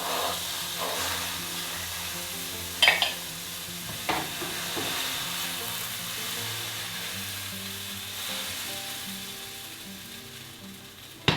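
A sourdough starter pancake sizzles and fries steadily in a hot pan, with a continuous hiss broken by a few sharp clinks and taps of a utensil against the pan.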